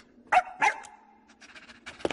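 A cartoon dog gives two short barks followed by a drawn-out whine and softer yips, close and clear against a quiet background in an animated French adventure, with no talking.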